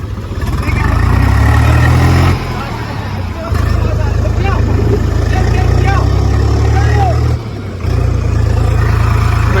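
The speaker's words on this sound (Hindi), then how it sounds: "भाई ट्रैक्टर लगा खींच रहे हैं" A tractor engine labours loudly with a deep steady drone while pulling an old Mahindra Thar out of mud off-road, the revs dropping and rising in surges, with people shouting and chattering nearby throughout.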